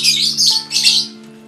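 Lovebird giving harsh, loud squawks in three close bursts, with a steady electrical hum running underneath and no talking.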